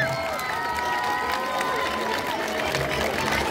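Applause and cheering for the 12th grade class and teachers at a school graduation send-off, a sustained crowd clapping with some voices mixed in, steady and moderately loud.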